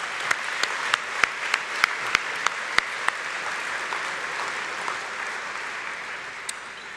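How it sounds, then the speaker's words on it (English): An audience at a 2017 Bison athletic hall of fame induction ceremony applauds the inductees, a steady roomful of clapping with several sharp, close individual claps standing out in the first three seconds before it gradually softens. "Let's give them all a big round of applause."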